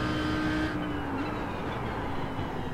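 A race car in the iRacing sim, engine droning steadily with a tonal whine that drops in pitch as it slows for a section, then continues at a lower, even hum.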